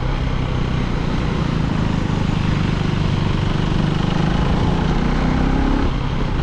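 KTM 390 motorcycle engine running in 4th gear on a mountain road, a steady loud drone throughout with the revs wavering slightly rather than holding constant, no talking.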